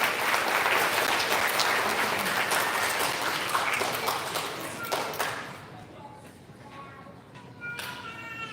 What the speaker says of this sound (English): Can we get a big round of applause for those award winners?